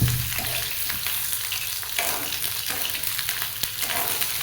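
Radish and chillies frying in hot oil in a pan for pickle, a steady, close, loud sizzle with occasional stirring scrapes and no talking.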